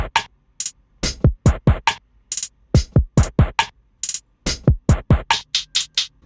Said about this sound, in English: So the drums sound like this.